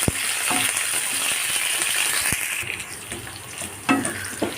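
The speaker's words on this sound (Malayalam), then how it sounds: "നന്നായിട്ടൊന്ന് ഇളക്കിയെടുക്കാം" Pumpkin pickle with green chilies and curry leaves being stirred in a hot pan, a continuous sizzle with occasional scraping knocks of the spoon, ending on a couple of louder clatters.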